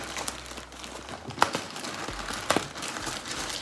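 Crinkling plastic packaging rustles continuously as a small clothing parcel is opened, close and moderately loud, with a couple of sharper crackles and no talking.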